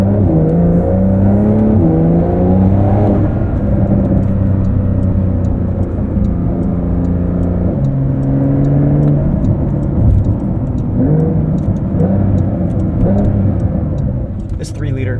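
A 2023 Porsche 911 Dakar with its 3-liter engine, driven in sport mode on all-terrain tires, hums and rises steadily through the gears, with shifting engine tones heard continuously from inside the cabin under talk.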